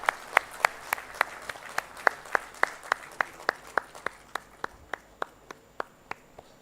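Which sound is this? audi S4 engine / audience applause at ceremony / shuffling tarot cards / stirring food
audience applause at ceremony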